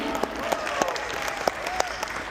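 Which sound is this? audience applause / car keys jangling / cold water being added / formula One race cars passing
audience applause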